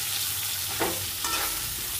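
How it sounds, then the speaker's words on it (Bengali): Chunks of elephant foot yam and potato stir-fry in a pan with a constant oily sizzle, and a spatula scrapes and stirs a couple of times. Close, with no talking. "ওল আর আলুগুলো এক এক করে দিয়ে দেবো। বেশ করে কষাবো।"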